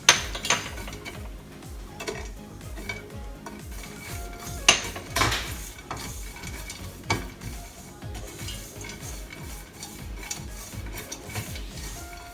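Dry fruits tossed and sautéed in a pan for a layered karanji, giving quiet scraping and clinking of utensil against metal with a few sharper knocks, steady and fairly faint throughout.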